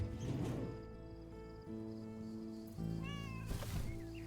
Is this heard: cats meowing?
yes